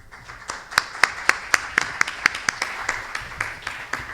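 A small audience at an academic law conference claps in a light, scattered round of applause, with distinct individual claps in a loose rhythm over a few seconds.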